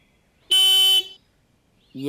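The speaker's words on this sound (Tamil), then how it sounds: "என்ன இவ்ளோ சத்தமா ஹார்ன் அடிக்கிறோம்?" A single loud, steady horn blast lasts about half a second in an otherwise quiet scene, followed by the start of a voice.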